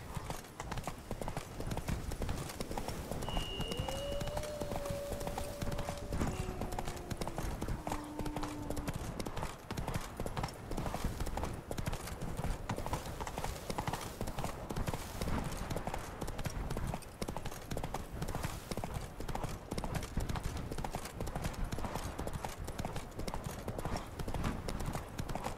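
Roach the horse gallops in The Witcher 3 video game, with rapid rhythmic clip-clop hoofbeats continuing steadily throughout, a few faint tonal game sounds appearing briefly early on.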